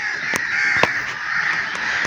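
Crows caw a few times near an old bungalow with a large tree and canal nearby, a handful of sharp separate calls over steady insect-like background hiss.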